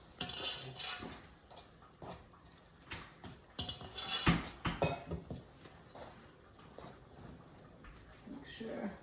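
Bread dough mixed by hand in a bowl during a bean stew and bread cooking session, with repeated irregular knocks, scrapes and clatter against the bowl while a person talks over it.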